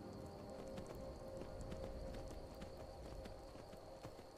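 Horse hooves gallop in a fast, steady clip-clop rhythm in Skyrim, from the horse Shadowmere climbing a mountain. The hoofbeats sound moderately faint over a soft ambient bed, with no talking.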